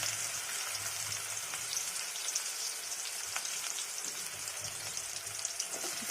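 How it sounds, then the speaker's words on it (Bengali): Onion and leafy greens fry in a pan with a continuous, close hiss and crackle, steady throughout, with occasional faint stirring touches and no voices. "শাক ভাজি করতেছি শাক রান্না করতেছি আর এদিকে আমি পেঁয়াজটা দিয়ে দিলাম"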